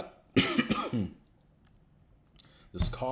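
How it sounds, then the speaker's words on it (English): A persistent cough, two or three harsh close-up bursts and throat clearing, a short pause, then another cough at the end, with no talk. "This cough that just will not go away."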